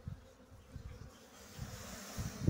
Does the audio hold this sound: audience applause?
no